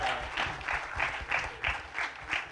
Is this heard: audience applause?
yes